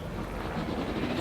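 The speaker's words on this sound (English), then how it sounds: "Pilot helicopter." Helicopter flight in the Jurassic World Evolution video game, a steady broad rotor and engine roar holding at even loudness throughout with no gaps.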